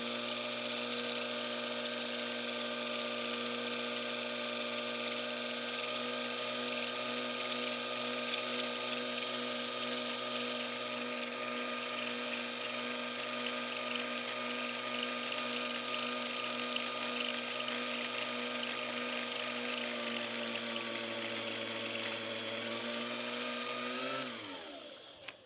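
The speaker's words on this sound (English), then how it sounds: "I am going to just wind one bobbin" A sewing machine winds a bobbin with a steady, loud mechanical whir holding one pitch for over twenty seconds, then slowing and dropping away abruptly as it stops.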